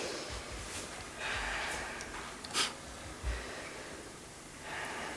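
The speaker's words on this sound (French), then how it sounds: "Faut respirer bien par la bouche." Slow, audible breaths in and out through the mouth during a doctor's examination, close by, with a couple of short sharper puffs over a faint background hiss.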